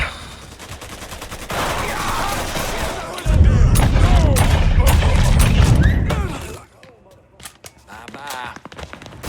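Covering gunfire in Mafia III: rapid bursts of automatic weapons fire, loud and sustained with heavy booms midway, then tapering into scattered shots, mixed with game voices and shouting.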